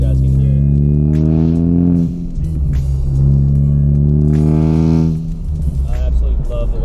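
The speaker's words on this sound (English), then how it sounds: "I have the Depo Racing High Flow Cat, and it made this car sound amazing." A 2016 Ford Focus ST fitted with a Depo Racing high-flow catalytic converter revs loudly up close, two rising engine and exhaust pulls with a dip between them, its deep droning note dominating throughout.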